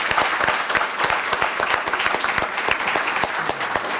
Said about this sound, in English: So let's give our students a great round of applause.